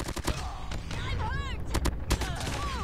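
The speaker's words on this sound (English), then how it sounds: "We're getting some long shots, boys." Sharp, crisp rifle shots from the Damascus AMAX in COD Mobile, fired in a quick irregular string of single cracks amid whooshing in-game effects, with a voice talking over the action.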